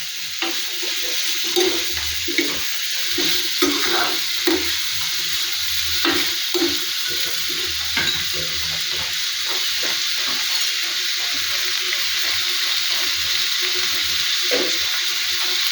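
Sliced onion and green chillies are sautéed in a pan for prawn roast, a constant hissing sizzle with soft repeated stirring scrapes at an irregular pace, near and without voices.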